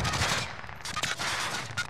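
Rapid gunfire crackles in a battle royale video game, with dense bursts of automatic shots and scattered single reports. The shooting is loud and close and carries on through the whole stretch without talk.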